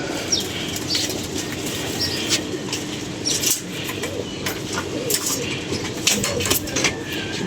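Pigeons flapping their wings in flight above a rooftop loft, soft fluttering bursts repeating over steady outdoor background noise, with faint coos and bird sounds now and then.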